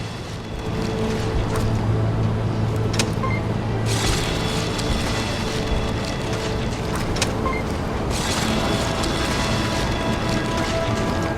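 A meat grinder in the video game Borderlands 2 churns with a continuous, loud, rough mechanical roar that carries a few faint tonal hums and some brief clicks throughout.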